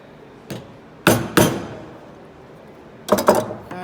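A chisel chops into the knife wall of a dovetail joint with sharp mallet strikes, one light tap followed by two heavy blows and then a quick cluster of knocks, close and loud against a quiet workshop.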